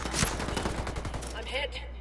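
Rapid video-game gunfire crackles in a dense, continuous volley for about two seconds, loud and close, with a faint voice underneath.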